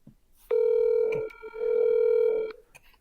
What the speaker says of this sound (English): Interesting ringtone.